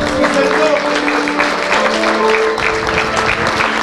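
A church congregation claps for Christ during a Spanish-language sermon, a steady mass of clapping with some sustained voices or a held musical tone running underneath.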